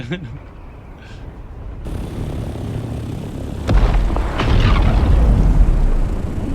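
An in-game explosion in Dune: Awakening lands as a heavy, rumbling boom that swells and keeps roaring for several seconds, loud over a continuous mechanical drone while someone talks.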